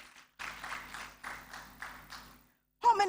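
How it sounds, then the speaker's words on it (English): A graduation ceremony audience claps in brief, even surges of applause, moderately quiet, followed by a short pause and the start of a voice. "Give yourself a round of applause"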